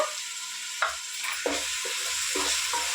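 Tomato paste fries in oil for an Andhra-style pulao, giving a continuous crackling sizzle with several soft scraping stirs of a ladle through the pan.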